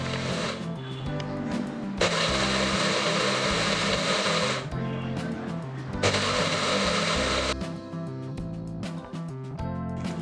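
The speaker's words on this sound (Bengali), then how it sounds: "এই সব কিছু একসাথে ভালোভাবে ব্লেন্ডার করে নেব।" An electric blender grinds almonds, fried onion, yogurt and raisins in loud whirring bursts that stop and restart, with a brief pause near the middle.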